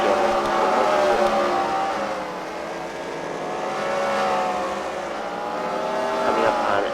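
Several race cars lap a short track at a CWRL Fight Night event at the Freedom Factory, engines droning continuously with a dip and rise in loudness as the pack sweeps around, no talking.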